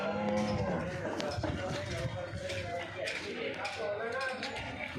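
Jafra buffaloes moo at a busy livestock market, their low drawn-out calls fairly faint amid crowd chatter and background bustle.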